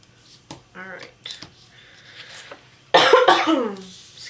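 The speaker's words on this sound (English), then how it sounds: "Excuse me for coughing" A person coughs during a craft planning session at a desk, with a few short throat sounds and small handling noises first, then a loud, close burst of coughing near the end.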